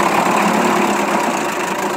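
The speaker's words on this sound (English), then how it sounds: "Really smooth running, nice idling engine." A Montgomery Ward Sea King 12hp outboard motor, built by Gale, idles smoothly in gear with a steady, even drone heard close up and without any talk.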